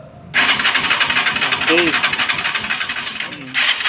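A motorcycle with hard push-start trouble fires up at once on the starter and settles into a steady, close idle, with people talking briefly over it.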